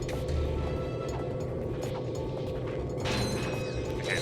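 Bombs exploding over and over in the Ratchet and Clank video game, a dense run of booming blasts with mechanical clatter, loud and continuous, swelling again near the end.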